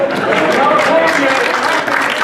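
An audience at a stand-up comedy show applauds in a dense, steady wash of clapping that fills the whole moment, with crowd noise mixed in.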